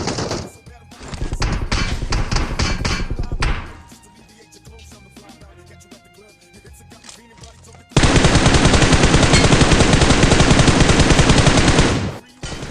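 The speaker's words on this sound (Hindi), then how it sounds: "अपने आप फायरिंग हो रही है।" Automatic gunfire in a solo-versus-squad battle royale match played on an iPad Mini 5, with dense bursts early on, a quieter stretch of scattered shots, then a long, loud, continuous volley at close range.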